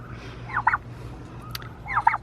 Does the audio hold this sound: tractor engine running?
no